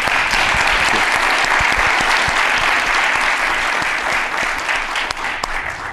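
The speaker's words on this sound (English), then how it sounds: "I will ask you to give a round of applause uh, to the panelists" An audience at a global trade and development panel applauds the panelists, a loud, continuous round of clapping that holds steady and starts to thin near the end.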